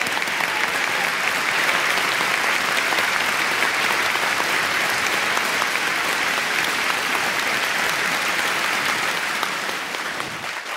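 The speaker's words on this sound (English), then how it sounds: "Please do one more thank you applause." Sustained applause from an audience at a formal environmental event honoring a dignitary, a steady dense wash of clapping that holds loud and even for about ten seconds before tapering slightly at the end, with no talk over it.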